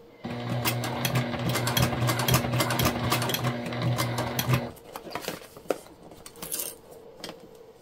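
A sewing machine stitching a clear jelly vinyl hip bag runs in a steady fast hum for several seconds, then stops, leaving light clicks and handling taps of the vinyl.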